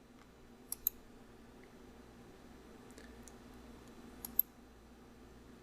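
Two quick double clicks of a computer mouse, one early and one near the end, sound crisp and close but quiet against a faint steady room hum while working in traffic-modeling software.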